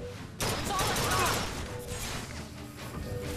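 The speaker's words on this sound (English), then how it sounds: "I almost shot Elizabeth." Rapid gunfire erupting in the video game BioShock Infinite, a loud sustained burst of shots and crashes right after a sudden onset, with a player talking over the action.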